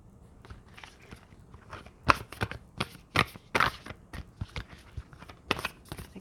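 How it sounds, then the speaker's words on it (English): A new deck of tarot cards being shuffled by hand, giving a run of crisp, uneven riffles and snaps, fairly close and without talk. "gave these a really good shuffle since they're a new deck"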